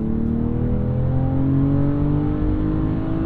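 A 2023 BMW M340i engine accelerates steadily, its droning pitch climbing smoothly as it pulls, with artificially enhanced engine sound, loud and close with no talking.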